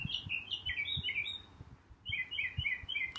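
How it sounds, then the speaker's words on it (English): Songbirds sing outdoors in two bright bursts of chirping phrases, moderately distant and soft, over a faint low background with light knocks. "Songbirds are having a ball out there."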